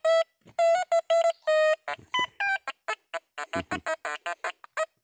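Quest X10 Pro metal detector cycling through a rapid series of electronic beeps and tones, ending in its overload tone, loud and close with no talking.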